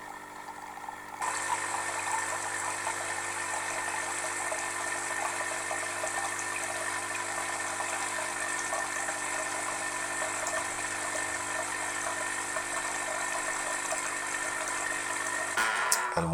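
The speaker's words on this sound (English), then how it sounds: "that's the water being filtered through the coffee, the ground coffee beans" A DeLonghi Magnifica ESAM 3000.B espresso machine brewing, its pump forcing water through ground coffee in a steady, continuous mechanical hum and watery buzz that starts abruptly and holds level, with no talking.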